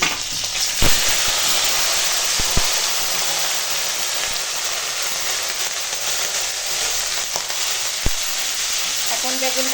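Cut eggplant sizzles steadily in hot mustard oil tempered with nigella seeds and green chilies, a dense, even hiss with a few sharp pops and clicks.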